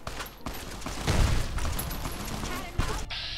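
Bursts of gunfire in the Fallout New Vegas video game crackle and thump amid game noise, with a sharp shot near the end, while someone talks over it.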